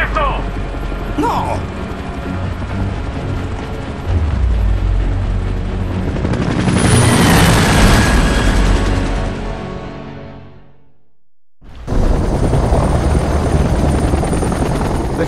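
A helicopter in Gears of War Judgment, played split-screen on Xbox Series X: loud rotor and engine roar swells, cuts out to brief near-silence, then returns at full volume.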